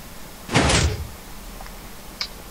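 A house's back door opening, a single close whoosh and rattle lasting about half a second, followed by quiet room tone and a faint small click afterward.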